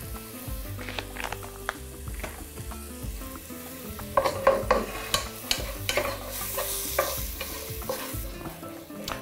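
Onion frying in a pan for solyanka, seasoned with salt, sugar and soda, gives a steady close sizzle with repeated utensil scrapes and clinks as it is stirred.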